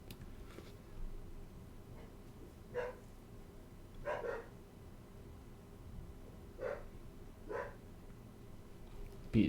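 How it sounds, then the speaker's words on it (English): Dogs bark in the distance, a handful of separate muffled barks and yips spread irregularly over a steady low background hum. "Dogs are doing some stuff there."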